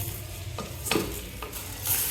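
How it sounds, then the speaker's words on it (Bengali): Washed, well-drained rice is stirred and fried with spices in oil inside a rice cooker, giving a soft close sizzle broken by a few short scraping stirs. "এখন আর কি আমাদের চালটা ভাজা হয়ে গেছে"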